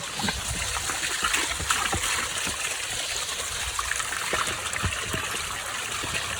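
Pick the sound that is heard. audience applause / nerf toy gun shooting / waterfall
waterfall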